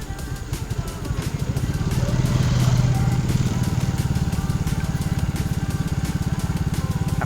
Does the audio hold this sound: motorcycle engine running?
yes